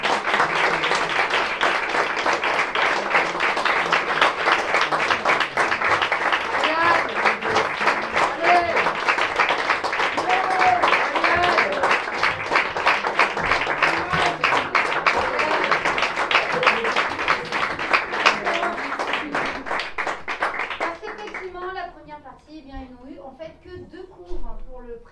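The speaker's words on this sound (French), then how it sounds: "j'aimerais bien qu'on les applaudisse très très fort" An audience at a Brest concert venue applauds a novice band playing one of its first shows, with sustained loud clapping for about twenty seconds that then thins out into scattered claps while voices come through underneath.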